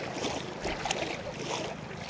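Steady wind roars across the microphone by the sea, with a constant broadband rush and faint wave wash underneath.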